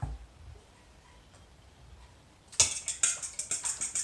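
Eggs and whole milk are whisked in a bowl with a utensil. A quiet stretch comes first, then a fast run of bright, regular clinks and taps against the bowl.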